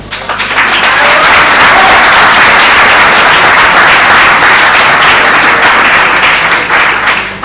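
An audience at a 2024 vecia event in Ponzano Veneto breaks into sustained applause, a dense, loud wall of clapping that swells quickly and holds steady for several seconds before easing off.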